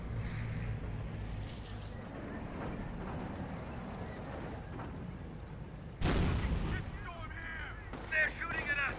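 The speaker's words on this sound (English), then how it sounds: "They're shooting at us!" Gunfire and explosions in the real-time strategy game Company of Heroes, low rumbling battle noise under game voices, then a sudden loud blast followed by sharper bursts of fire.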